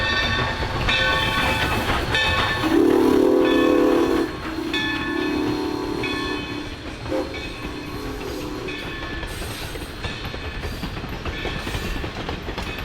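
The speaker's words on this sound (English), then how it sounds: "Deep River Essex steam train right here" The Deep River Essex steam train passes nearby, rumbling along with rhythmic wheel clatter, and several drawn-out whistle blasts sound near the start before the noise settles into a steady rolling roar.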